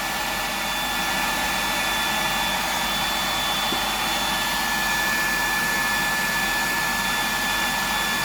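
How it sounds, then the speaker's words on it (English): A heat gun blowing on a custom fishing lure, a steady loud whooshing hiss of hot air lasting throughout with a faint whine, a short remark spoken over it. "So I'll just give that a hit with the heat gun."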